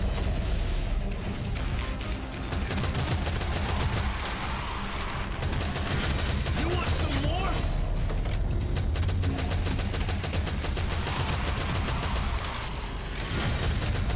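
Rapid gunfire from the shooter video game Shadowgun Legends during a Hive Mind co-op match, a dense, continuous barrage of automatic shots and explosions filling the whole stretch, loud and relentless.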